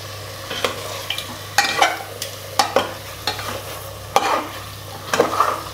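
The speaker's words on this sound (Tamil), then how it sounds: "நல்லா இந்த மசாலாலாம் இந்த காடைக்குள்ளே நல்லா இறங்குற மாதிரி மிக்ஸ் பண்ணிடலாம்" Masala is worked into scored quail pieces for a pressure-cooker biryani. Close, irregular stirring scrapes and wet squelches repeat over a low steady hum, with no one talking.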